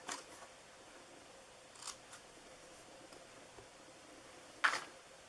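Scissors cut paper while a tag window box for a birthday is being made. A few faint, short snips are spread across a quiet room, with the last one the sharpest.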